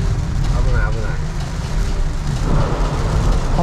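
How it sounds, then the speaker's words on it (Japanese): Heavy summer rain pours down in Nara during a downpour, a loud, dense roar that never lets up, with people talking over it throughout. "あのそうめん屋さんところも雨降ってんかな。 降ってんじゃん。"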